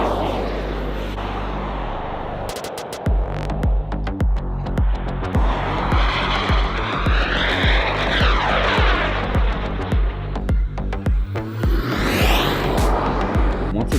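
A giant turbine-powered RC jet aircraft capable of 300 mph screams through the sky with a loud, rising-and-falling whine as it makes fast passes, its roar swelling and fading with each flyby, with some faint talk underneath.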